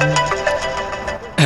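A telephone rings with a repeating electronic ringtone, fairly loud, over a steady background of music or room sound, with a brighter burst near the end.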